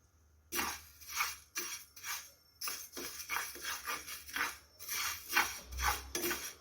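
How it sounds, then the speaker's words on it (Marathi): Fenugreek seeds dry-roasting in a pan on a gas stove, with repeated short bursts of scraping and rattling as the seeds are stirred, close and fairly quiet. "थोडंसं हलकंसं दोन मिनिट आपण गॅसवरती ही मेथी भाजून घेत आहोत"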